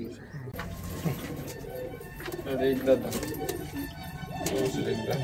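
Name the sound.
pigeon cooing in a loft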